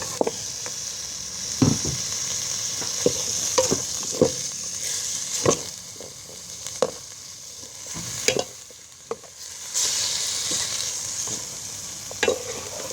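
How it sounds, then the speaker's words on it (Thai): Soft pork bones stir-fry with curry paste over low heat, a steady sizzle broken by repeated spatula scrapes and knocks against the pan at an uneven rhythm, close and fairly loud. "แล้วก็จะใส่ กระดูกหมูอ่อน ไปผัดตามไป"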